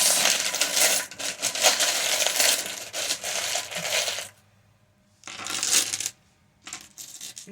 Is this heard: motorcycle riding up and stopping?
no